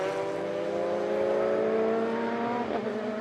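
A black number 10 race car in the 2017 BRSCC OSS Championship at Donington Park roars past in traffic, its engine note loud and rising in pitch, then dropping sharply near the end as it passes.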